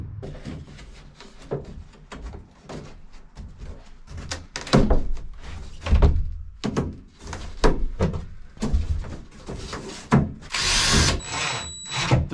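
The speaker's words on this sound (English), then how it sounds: "you could drill that piece in and then it kind of stabilizes it for you" A power drill drives screws into cedar wall planks inside a Ford E-150 camper van, with short bursts of whirring mixed with loud knocks and thumps of wood being handled, close and uneven in rhythm.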